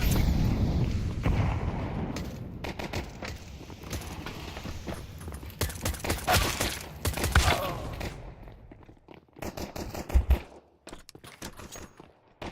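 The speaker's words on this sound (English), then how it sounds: "Opening fire." Video game combat with gunfire and artillery, a dense barrage of rapid shots and heavy booms rolling together, thinning out near the end into a few scattered louder blasts.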